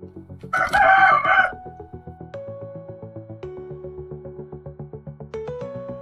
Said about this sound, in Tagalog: Sinabayan pa tayo ng tilaok ng mga manok.